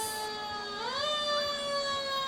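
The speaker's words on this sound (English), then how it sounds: "It is, isn't it? The sirens." A fire engine siren wails steadily during a parade, its pitch sweeping upward and then holding high, loud and close with no voices.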